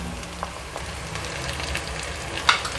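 Chickpeas with salt, red chilli powder and turmeric fry in a pan, giving a soft, steady sizzle with occasional light clinks from stirring.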